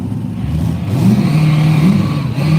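A Duramax diesel truck accelerates down the Woodburn drag strip, its engine loud and steady with a rising, wavering note that builds after the first second and holds strong to the end.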